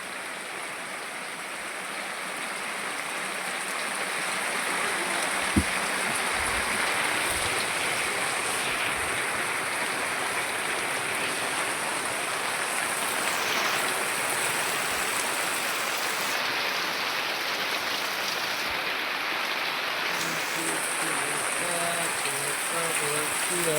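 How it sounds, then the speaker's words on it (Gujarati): Heavy rain pours steadily over Jamla village in Chhota Udepur district, a dense unbroken hiss of downpour that holds for the whole stretch, with a few faint low knocks beneath. "આજ તો આવી ગયો છે વરસાદ"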